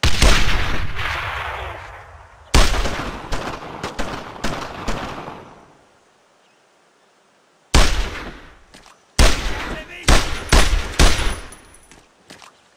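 Heavy bursts of gunfire and artillery in the WWII shooter Brothers in Arms: Road to Hill 30, loud and close, in clustered volleys separated by a brief lull.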